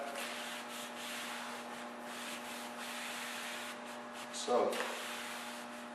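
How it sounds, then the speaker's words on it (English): A rag wipes excess stain across a solid wood door in long, steady rubbing strokes, close and soft, with one brief spoken word near the end. "Just right across, take off that excess stain"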